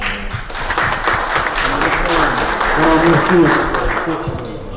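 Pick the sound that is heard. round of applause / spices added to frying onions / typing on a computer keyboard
round of applause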